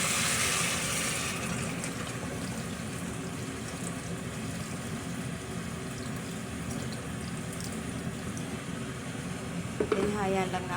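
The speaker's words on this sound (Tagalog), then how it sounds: "lalagyan natin siya ng tubig" Water is poured into a pot of sizzling chicken for tinola, giving a continuous, close rushing pour over the frying hiss, with a brief bubbly burst near the end.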